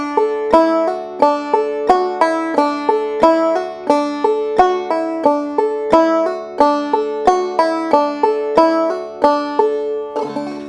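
Banjo picking a round peak style clawhammer pattern, bright plucked notes in a steady repeating rhythm, played solo and clearly close up for about ten seconds.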